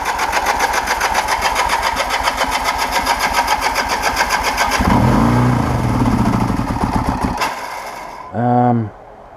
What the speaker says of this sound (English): The motor's running.